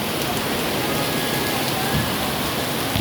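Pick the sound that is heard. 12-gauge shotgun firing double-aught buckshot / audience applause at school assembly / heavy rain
heavy rain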